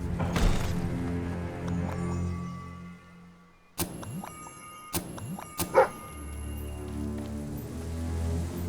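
Dog in the Fable 3 video game yipping and barking, a few short sharp barks and whimpers between sudden thumps over a quiet musical game background.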